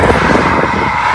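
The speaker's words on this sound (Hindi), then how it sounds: "मैं ड्राइव करने लगा हूँ गाड़ी।" A car on a road trip from Cornwall to Manchester hums with a loud, steady engine and road rumble as it pulls away, with no talking.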